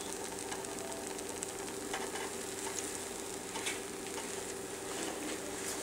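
Stirring of a sweet roti mixture with milk powder, a continuous soft scraping and rustling close by, fairly quiet and steady throughout with no talking.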